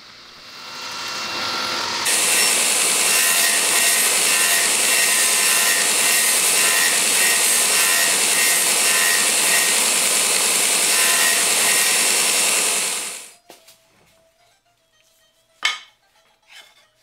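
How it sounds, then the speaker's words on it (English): A saw blade set about a quarter inch deep makes a practice dado cut in wood for a wagon seat back. After a quieter start it becomes a loud, steady, close roar for about eleven seconds, then winds down, followed by a few light clatters. "I'll set my blade depth at about a quarter of an inch. And I'll make a practice run to make sure it's correct."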